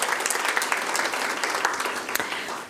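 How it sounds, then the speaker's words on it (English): A round of applause fills a Board of Education business meeting, with dense, steady clapping from the audience throughout and a slight easing toward the end. "Let's give her a round of applause."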